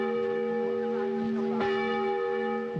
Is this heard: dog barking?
no